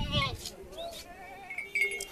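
A goat bleats at a goat market, with several wavering, drawn-out cries at close range, some hoof or handling noise at the start, and louder sounds near the end.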